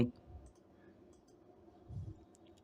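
A computer mouse clicks while navigating a website, a few quiet, sparse clicks over faint room hum in an otherwise calm setting.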